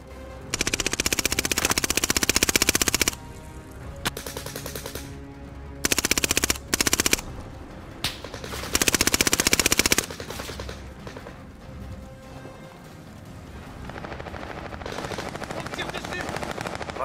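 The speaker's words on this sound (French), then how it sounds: "On me tire dessus!" Bursts of machine-gun fire aimed at the player in a video game come in several loud, rapid volleys separated by short pauses, followed by quieter ambient game noise.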